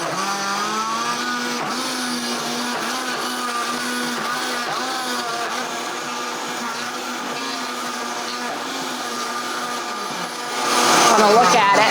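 A very large blender crushes ice to make ice cream, its motor holding a loud, steady droning whine with rattling ice, then surging louder and rougher near the end.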